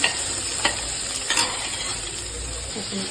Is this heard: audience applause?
no